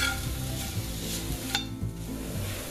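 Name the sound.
country fried potatoes stirred and sizzling in pan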